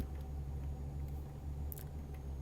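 A MAN Lion's Coach bus engine in Euro Truck Simulator 2 idles and rumbles in a low steady drone, with faint clicks and small knocks over it.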